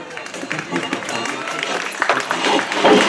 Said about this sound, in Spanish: ¡Un aplauso para el DJ, por favor!